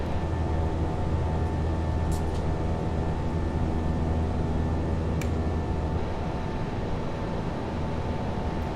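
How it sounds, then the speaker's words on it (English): Airbus A319 (Toliss) jet engines in the X-Plane flight simulator spooling back, a steady broad roar and hum that stays loud and constant throughout, with faint tonal whine above. "You hear the engine spooling back"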